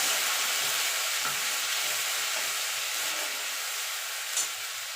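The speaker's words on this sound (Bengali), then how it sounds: "আদাটাকে একটুখানি নাড়াচাড়া করে নেব।" Ginger paste frying in a pan for a mixed vegetable dal, a steady dense hiss of sizzling oil close by with faint soft stirring scrapes underneath, no voices.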